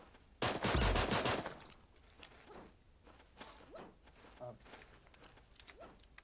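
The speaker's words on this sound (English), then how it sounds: "I wasn't trying to shoot the box with a shotgun." A single loud shotgun blast from Super Animal Royale hits a box and lasts about a second, followed by quieter scattered taps and footsteps.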